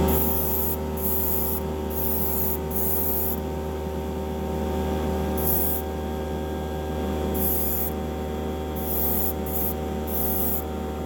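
Steady hiss of an airbrush laying down Createx paint on a Hot Wheels 1969 COPO Corvette, running continuously with brief breaks in high hiss, over a constant low mechanical hum.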